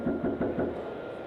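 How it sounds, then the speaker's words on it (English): A man knocks on a front door, picked up by a doorbell camera: four quick, dull knocks in an even rhythm, then a low hum, close and fairly loud. "Then he knocks again."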